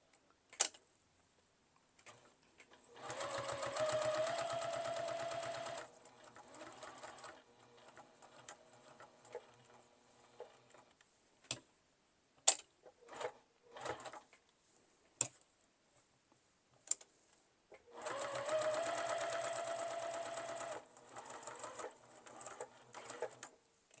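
A sewing machine stitches down each side of double fold bias tape for a coin purse, with two sustained runs of steady mechanical whirring separated by a stretch of clicks and knocks, and no talking.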